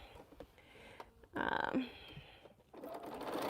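A sewing machine stitches quilt strip sets in a short, close burst of fast whirring, with quieter handling noise before and after.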